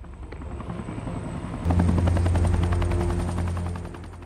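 A helicopter flies close by with a loud, rhythmic rotor chop and a droning engine that swells suddenly and then holds steady.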